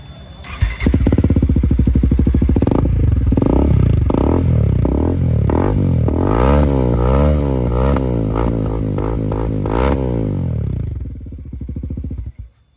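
A Bajaj Pulsar NS400 motorcycle fitted with an Arrow free-flow exhaust is revved hard and close. Its loud engine note climbs and falls in a rapid series of blips, then settles before cutting off.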